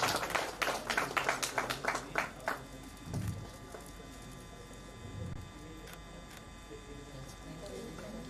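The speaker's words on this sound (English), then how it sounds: "can we have a big round of applause," Audience applause at an alumni get-together celebration: a burst of hand clapping for about two and a half seconds that fades out, followed by low room murmur and a faint voice in the background.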